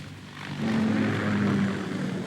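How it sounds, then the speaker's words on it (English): Rotor and engine drone of a Kamov Ka-60 Kasatka helicopter in Metal Gear Solid 2, a steady loud hum that swells after a moment and holds with a low tonal whine, no voices. "Ka-60 Kasatka. Kasatka? Kamov chopper, right?"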